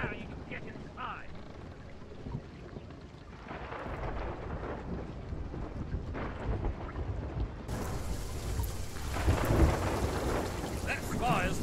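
Thunder and storm rumble from the video game Sea of Thieves, with rain and sea noise building into deep rolling booms and crackling, under and between spoken lines.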